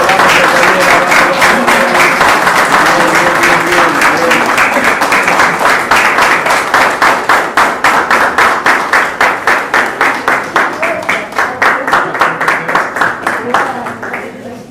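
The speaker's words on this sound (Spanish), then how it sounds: "Fuerte un aplauso." Audience at a municipal council session with retirement farewells and a club tribute breaks into sustained applause, loud and steady throughout, with many hands clapping together and tapering near the end.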